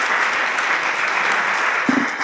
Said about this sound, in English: An applause here for the participants.